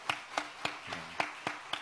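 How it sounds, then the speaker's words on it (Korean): Clapping during a church service, in a quiet, even rhythm of about seven sharp claps a little over a quarter-second apart. Each clap is crisp and distinct, heard at a modest distance with no talking. "우리 박수 한번 쳤으면 좋겠습니다."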